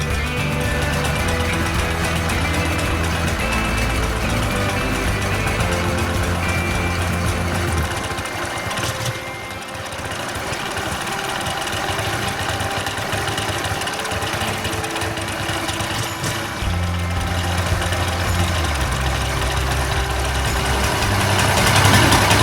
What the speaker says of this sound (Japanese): これでエンジンを温めながら